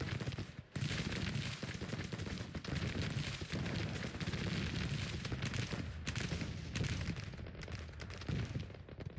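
Rolling, continuous battlefield gunfire and booming cannon fire from a Grand Tactician: The Civil War 1861-1865 game, dense and loud throughout with overlapping reports.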